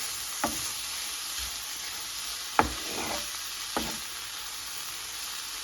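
Dried anchovy thokku sautéing with tomato and onion in a pan, a steady low sizzle with a few sharp scraping stirs of a spatula spaced through it, close by and without talk.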